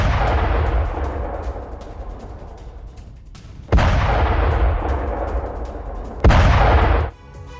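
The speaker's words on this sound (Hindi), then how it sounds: "D-30 तोप से बारूदी प्रहार किया गया है।" A D-30 howitzer fires artillery rounds in Kherson during the Russia-Ukraine war: two loud, heavy booms a few seconds apart, each with a long rumbling decay, over continuous low outdoor rumble.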